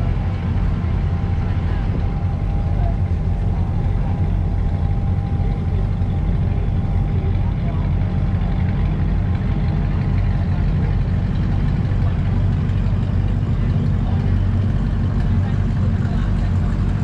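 A tour boat engine on Lake Shasta runs in a steady, loud, low rumble that holds constant throughout with no breaks.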